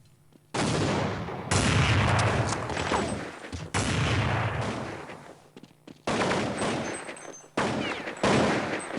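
Loud AWP sniper rifle shots crack out repeatedly in a Counter-Strike match, each blast followed by a long decaying echo, with several rapid bursts in succession.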